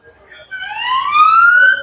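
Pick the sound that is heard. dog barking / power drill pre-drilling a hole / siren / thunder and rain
siren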